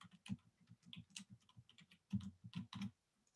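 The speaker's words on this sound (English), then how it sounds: "Okay, I keep typing too fast," Fast, uneven typing on a computer keyboard, with bursts of crisp close keystrokes separated by brief pauses and no voices.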